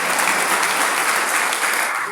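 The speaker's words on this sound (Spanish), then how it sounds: "¿Cuántos pueden darle un fuerte aplauso al Señor?" Sustained applause from a church congregation fills the space evenly and loudly, a dense wash of many hands clapping continuously without pause.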